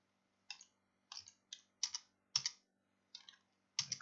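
Button presses on a Garmin 530W aviation GPS unit while entering waypoint letters, about eight separate clicky taps in an irregular rhythm, close and clear over a faint steady hum.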